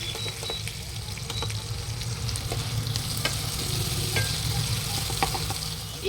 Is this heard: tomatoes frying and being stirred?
yes